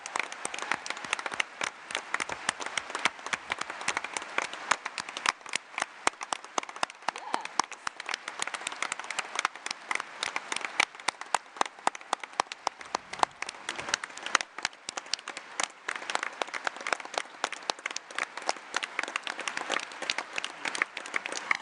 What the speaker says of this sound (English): I'd love to have a round of applause for the venue